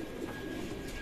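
Pigeons cooing at a rooftop pigeon loft: a faint, steady murmur of soft coos against low background noise, with no voices.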